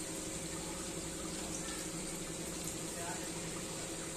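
Stuffed eggplants, bharli vangi style, slide into hot tempered oil in a pan, raising a steady, dense sizzle and bubbling that holds evenly throughout, with a voice speaking over it.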